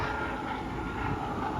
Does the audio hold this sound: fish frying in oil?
no